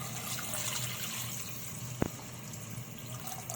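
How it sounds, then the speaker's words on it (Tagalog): Water pours steadily into a pot of mung beans mixed with pork for monggo, a continuous rushing splash with one brief knock partway through and no talking. "Ngayon lalagyan natin ng tubig."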